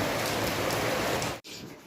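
Rain pours steadily outdoors near an open-air stage, a dense, even hiss that briefly cuts out and then resumes.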